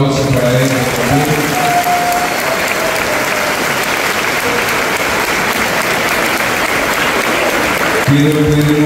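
Crowd applause at a Santiago religious procession, a steady dense wash of clapping lasting several seconds, with faint voices and a sustained tone underneath before it tapers at the end.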